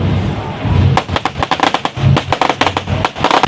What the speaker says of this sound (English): people use firecrackers to create loud noises to scare it away